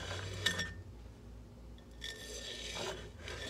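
A wire tool scrapes and slides under a freshly thrown clay bowl on a stopped pottery wheel head, brief quiet rasping strokes with small clinks, several separate passes in a hushed room.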